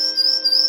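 A Lamy birdsong whistle imitates a chickadee with one thin, pure, high note held under a second, wavering slightly in pitch, clear and close.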